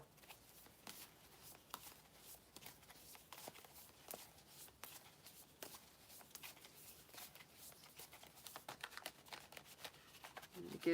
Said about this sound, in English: Give these a nice good shuffle.